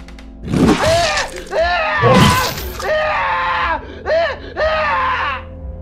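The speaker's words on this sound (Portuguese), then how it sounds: "Eram gritos de partir o coração, cheios de dor e terror." Anguished screams of pain and terror in a horror story, several long wailing cries in a row, loud and close, rising and breaking with strained, desperate tone.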